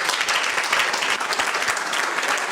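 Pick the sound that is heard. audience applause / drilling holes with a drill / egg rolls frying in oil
audience applause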